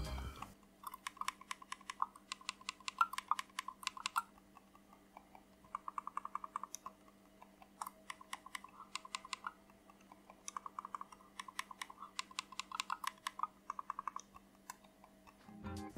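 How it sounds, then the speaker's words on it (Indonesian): Logitech Signature M650L mouse buttons clicking in quick bursts of sharp, close, quiet clicks, separated by short pauses, with no voices. "Dan berikut nih suara dari tombol mouse-nya."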